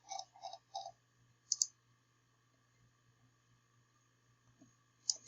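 A computer mouse clicking, a quick run of three soft clicks followed by a couple of sharper isolated clicks, close and quiet with long gaps of near silence between them.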